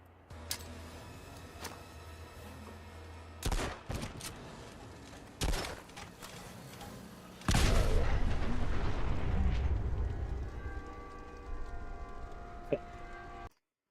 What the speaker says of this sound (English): The grenade throw does feel weirdly aggressive in this compared to Fallout 4.